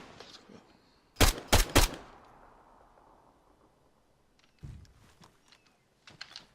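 Gunfire in a French military game mission: three sharp, loud shots in quick succession, then scattered quieter bursts later, over a low ambient background.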